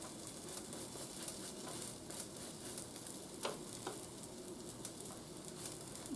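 Banana pancakes sizzle and fry in butter in a pan, a soft, steady crackle close by with light scraping as they are moved around, with no speech.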